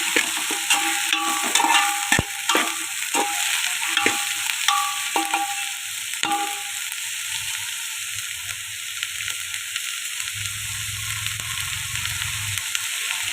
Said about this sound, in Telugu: ఉల్లిపాయలు పట్టేసి కొంచెంత చాప ముక్క చక్కగా మంచిగా గ్రేవీ వచ్చేసి చక్కగా దోరగా వేసుకున్నాక